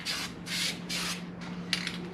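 Spray primer hissing onto test pieces for a car dashboard in a workshop, in four or five close, steady bursts with brief pauses between them and a low hum underneath.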